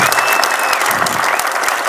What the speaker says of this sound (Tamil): இதனால் அரங்கில் கரகோஷம் எழுந்தது.